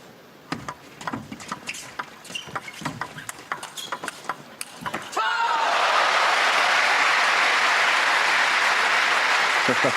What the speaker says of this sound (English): the crowd showing appreciation for another quality rally